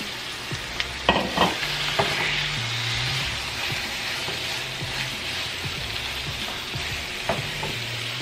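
Four pieces of paprika chicken fry in oil in a pan, a steady close sizzle broken by a few knocks and scrapes as the pieces are rolled to coat them in oil; nobody speaks.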